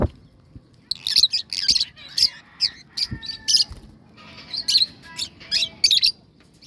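Baby birds chirp in rapid, high-pitched bursts of tweets while being hand-fed formula, the calls coming in clustered, repeated groups close by.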